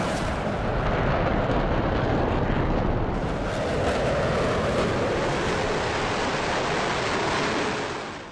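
An F-4 Phantom fighter jet roaring in full afterburner, a loud, continuous broadband blast that holds steady for several seconds before tapering off near the end, with no voices.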